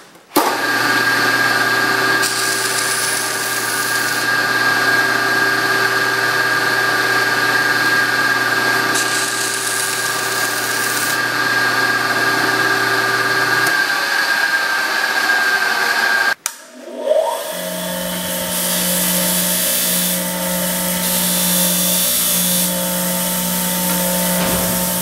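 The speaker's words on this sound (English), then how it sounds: "so I'll just belt sand that little pip off of there" A belt sander grinds a small pip off a metal plug in a workshop, a steady loud mechanical whine with a constant hum running for about sixteen seconds before cutting off, followed by a lower idling machine drone.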